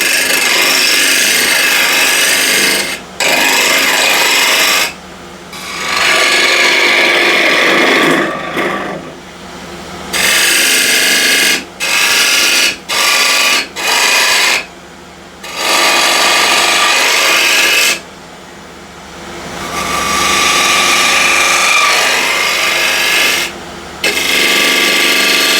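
A spindle gouge cuts a wooden lid turning on a lathe. The loud, steady scraping cut comes in long runs broken by short pauses, close up, with no talking.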